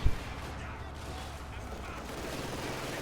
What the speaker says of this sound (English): Ghost PTRS rifles, plinked away at it as well